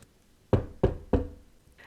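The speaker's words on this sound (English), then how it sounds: "He knocks on the door." Three firm knocks on a door, evenly spaced and close by, each a sharp thud with a brief ring-off, against otherwise quiet surroundings.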